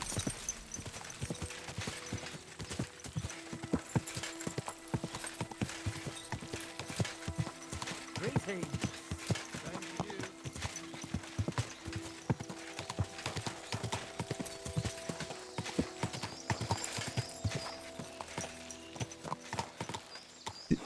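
Horse hooves clip-clop steadily in Kingdom Come: Deliverance 2, a continuous walking rhythm over in-game ambience and music, with an occasional whinny.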